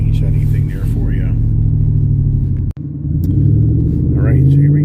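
A mac and cheese–themed race truck pulls off the starting line, its engine droning low and rising as it gets under way, with a brief dropout midway. People talk over it throughout.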